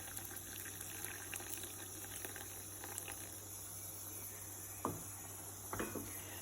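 Quiet, steady bubbling of a pot of sambar on the boil under a constant background hum, with a couple of soft clinks near the end.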